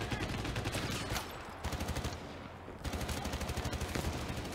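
Rapid automatic gunfire from the Intar rifle in the video game Crossfire X: dense, loud bursts of shots in three stretches separated by brief pauses.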